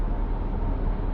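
Road noise inside a moving BMW G30 520i: a steady, muffled low-frequency rumble of tyres on tarmac filling the cabin, even and continuous with no voices.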